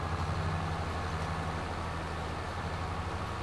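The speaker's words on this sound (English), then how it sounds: "Turn up the tractor sound here just a little bit." A steady low tractor engine drone in the video game Farming Simulator, with a constant rumbling hum, loud and unbroken throughout, running at even speed.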